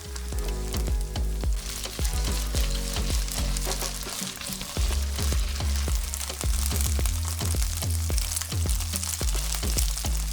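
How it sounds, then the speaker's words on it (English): Tofu frying in a little neutral oil in a skillet over medium-high heat gives a steady, close sizzle with scattered sharp crackles and pops throughout, and no voices. "Heat a little neutral oil in a skillet over medium-high heat and add the tofu."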